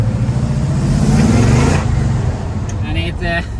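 Supercharged car engine revving loudly and close with a whining supercharger, a steady roar that swells then eases, with voices talking over it.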